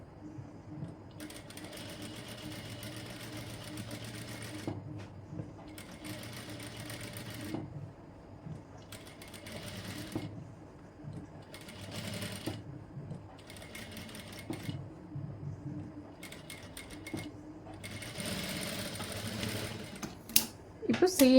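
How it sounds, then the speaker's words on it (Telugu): A sewing machine stitches a boat neck blouse, its needle running in repeated steady stretches with short pauses, heard close by while someone talks over it. "చూడండి నేను ఎలా స్టిచ్ వేస్తున్నాను మీరు క్లియర్గా అబ్జర్వ్ చేయండి"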